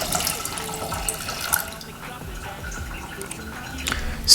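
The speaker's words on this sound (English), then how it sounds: "I'm going to add some water to that." Water trickles and splashes into a bowl of salted couscous in a kitchen, an irregular close-up pour with small drips and spatters, some brief quiet voice sounds in the background.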